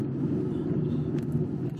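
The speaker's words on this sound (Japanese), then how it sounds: "今現在運転しています" A car drives along a local road in Okayama Prefecture, Japan, heard from inside the cabin as a steady, loud low rumble of engine and tyres with no voices.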